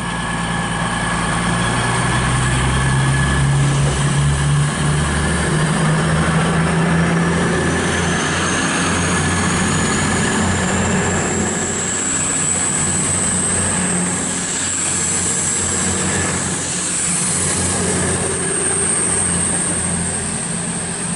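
East Midlands Class 222 Meridian unit 222.003 'Tornado' sits at Chesterfield station on a Sheffield service, its diesel engine holding a loud, steady idle rumble with a rising high whine and faint squeals throughout, without speech.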